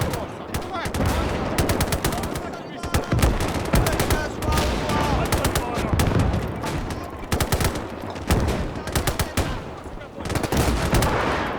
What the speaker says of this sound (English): That's the Lahti machine gun